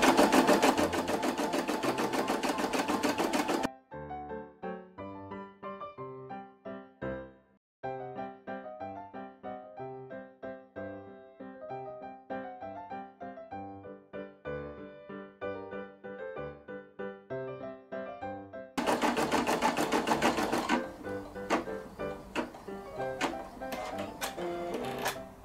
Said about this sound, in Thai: จักรก็จะปักให้เราอัตโนมัติเลยค่ะ